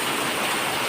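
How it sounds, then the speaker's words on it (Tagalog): Steady, dense hiss of heavy rain pouring down continuously in Marikina, loud and close, with no other sounds standing out. "Malakas ang ulan dito sa Marikina."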